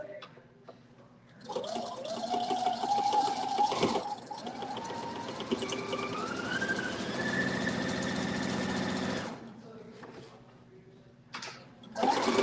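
A home sewing machine runs fast and steady while quilting, its whirring hum rising in pitch for several seconds before stopping, with brief quiet pauses and a short burst of stitching again at the end.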